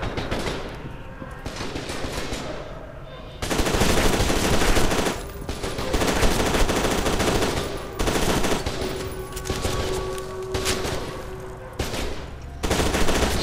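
Sustained bursts of rapid machine gun fire in F.E.A.R. 2, loud and dense, coming in long stretches broken by brief pauses, with gunfire from several directions.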